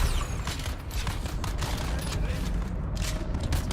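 Rapid gunfire from a firefight in Dune: Awakening, a dense stream of shots cracking through a busy, loud battle din with no pauses.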